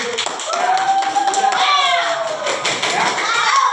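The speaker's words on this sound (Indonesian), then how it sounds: "Tepuk tangan." Children in a classroom clap in a short patter of hand claps, mixed with kids' excited voices and chatter close by.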